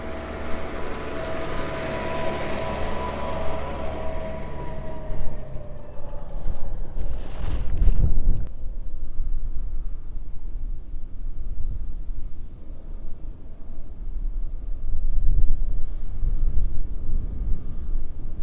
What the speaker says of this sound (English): It's nice and breezy, so it's drying out on top.